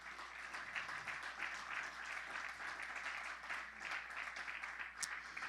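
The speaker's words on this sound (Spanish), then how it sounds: "un aplauso fuerte al Señor." Sustained applause from a church congregation, steady and moderately loud, filling the sanctuary for several seconds without a break.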